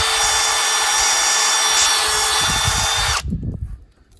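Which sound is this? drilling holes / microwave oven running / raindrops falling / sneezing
drilling holes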